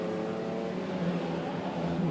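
1960s classic sports race cars such as an Alfa Romeo Giulia and MG Midget on track at Brands Hatch, a steady droning engine roar heard from a distance, faintly revving throughout.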